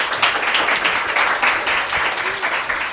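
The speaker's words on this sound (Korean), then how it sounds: "박수 한번 드릴까요?" An audience at a literary public broadcast event claps together, a dense, fairly loud burst of applause sustained evenly for a few seconds with no talking on top.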